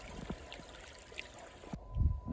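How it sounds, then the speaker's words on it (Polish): A small woodland stream trickles and gurgles softly in winter, a faint, steady flow with a few brief splashes and a low thump near the end. "Jest woda w strumieniu."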